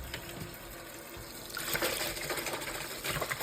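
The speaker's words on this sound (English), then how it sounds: "gotta run the water till it's hot" Hot water runs from a tap into a sink, a close hissing gush that swells louder partway through and keeps flowing to the end.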